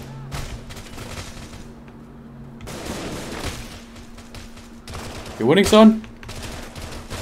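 Gunfire in the military shooter Arma 3 cracks in scattered bursts, with sharper nearby shots partway through and a voice talking over the action.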